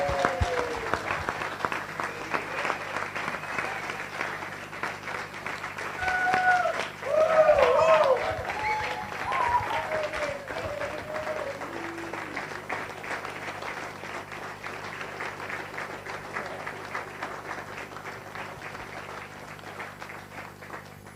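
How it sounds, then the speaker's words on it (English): Members at a Las Vegas Rotary Club meeting applaud together in a room, the clapping swelling briefly near the middle and then trailing off gradually, with some voices and calls mixed in. "I'd just like to have a round of applause for the incredible career Katie did."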